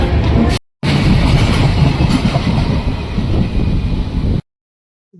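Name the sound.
train at Guntakal railway station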